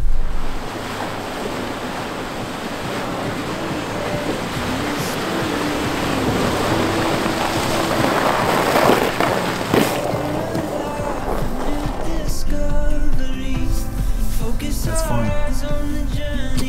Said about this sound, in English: More water crossings here. The sound of this is crazy, the way it just like echoes off the cliffs.